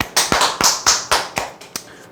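Sharp, separate claps from a small group at a sales team meeting, about eight distinct hand claps in an uneven rhythm, close and loud with no talk over them.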